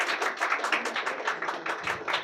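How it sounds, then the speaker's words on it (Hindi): An audience at a Republic Day speech and song competition applauds a speech with brisk, rhythmic clapping that stays steady and fairly close throughout. "everyone, big round of applaud for her beautiful speech"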